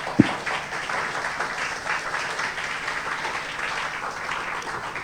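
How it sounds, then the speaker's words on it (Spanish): Steady applause from a church congregation during a service, sustained and even throughout, with one sharp louder clap near the start. "¿Cuánto le pueden dar un aplauso al Señor en esta mañana?"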